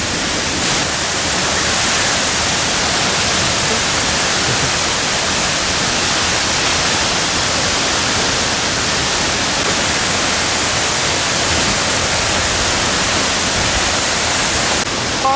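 A loud waterfall in the Chartreuse mountains roars with exceptional water flow, a steady, dense, full-band rush that fills the whole stretch without a break.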